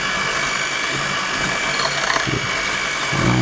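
Coffee being beaten steadily by hand for cappuccino foam, a continuous scraping, whirring rub with no voices, held at an even, fairly loud level throughout.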